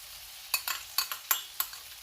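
Utensil stirring buttered garlic prawns with tomato sauce in a pan, a few quiet scraping clinks at irregular intervals over a faint sizzle, close and soft, with no talking.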